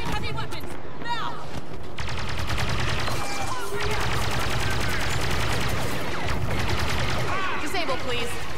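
Dense, continuous blaster and gunfire from a Star Wars Battlefront 2 battle on Jakku, rapid overlapping shots and bursts filling the whole stretch at high loudness with battlefield clutter and explosions mixed in.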